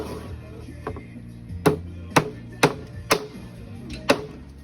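Hammer blows on a beam at a house construction site: about five sharp, fairly loud strikes at an uneven pace, with a few fainter knocks and some distant background voices.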